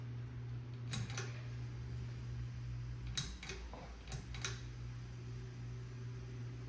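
A 32-inch Hampton Bay Minuet II ceiling fan runs on high with a low steady hum and whir, faint and close, broken by a few sharp ticks and clicks from its wobble.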